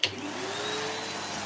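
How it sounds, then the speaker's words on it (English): A vacuum cleaner hoovering a room, running as a steady loud broadband roar with a faint whine, starting abruptly and holding constant throughout with no voices. "I need to do a bit of hoovering now, so you might not hear me much"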